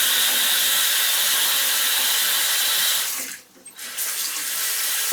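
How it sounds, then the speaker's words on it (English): Hot water from a faucet runs steadily into a handicap sink with a clogged drain, making a loud, close, continuous hiss that dips briefly and then resumes. "Get some hot water down there, just flipping hot. See if we can give it a flush."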